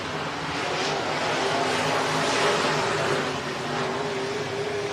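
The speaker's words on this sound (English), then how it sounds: "got to settle for that spot behind Hoffman as they go into turn 3 and 4" Modified race cars roaring around the turns at Hancock County Speedway, a continuous loud engine drone with slight pitch shifts as the pack sweeps past, steady with no pauses.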